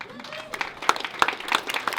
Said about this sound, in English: Give him a hand, right up applause.